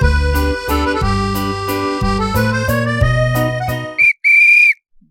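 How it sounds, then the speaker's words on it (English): Rhythmic music plays first, then two sharp whistle blasts sound in quick succession, a short toot followed by a longer shrill one like a referee's whistle opening a football show. "Blow that whistle."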